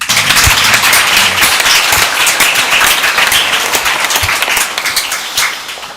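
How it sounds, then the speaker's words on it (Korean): A church congregation at a New Year's thanksgiving service claps loudly and steadily, dense crackling hand claps continuing throughout, with no voices heard. "박수 한번 할까요?"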